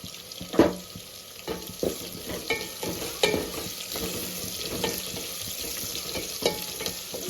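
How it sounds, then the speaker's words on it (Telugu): Seasoning frying in hot oil until golden for a bottle gourd dal, a low steady sizzle with frequent light stirring clicks and scrapes, close by and without speech. "బాగా గోల్డ్ కలర్ వచ్చేంత వరకు వేపుకోవాలి"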